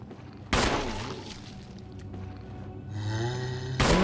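Gunfire in the survival-horror video game Resident Evil 1: two loud, sharp shots about three seconds apart, each bursting out over a steady low in-game ambience, with no talking.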